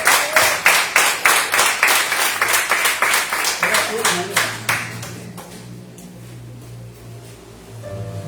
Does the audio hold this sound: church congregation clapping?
yes